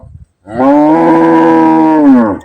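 A dairy cow lets out a single loud, long, close moo lasting about two seconds.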